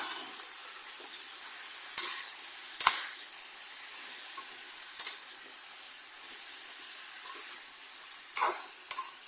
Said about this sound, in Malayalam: കുറച്ച് കറിവേപ്പില നന്നായിട്ടൊന്ന് വഴറ്റിയെടുക്കാം